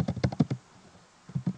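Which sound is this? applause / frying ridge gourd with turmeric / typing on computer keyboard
typing on computer keyboard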